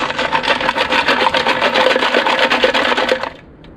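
A rusty fuel tank from a Craftsman 5.5 engine is shaken with about a pound of nuts and bolts and old gas inside, giving a loud, fast, continuous rattling and grinding that stops abruptly near the end.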